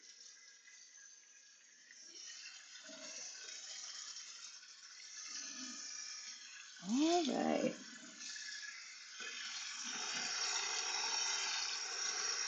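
Water running from a kitchen sink tap in a home kitchen makes a steady broadband hiss throughout, with a brief louder swell midway and a short spoken word.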